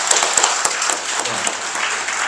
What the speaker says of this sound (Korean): 우리끼리니까 박수 한번 칠까요?